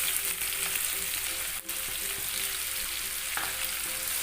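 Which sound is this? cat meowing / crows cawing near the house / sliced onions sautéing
sliced onions sautéing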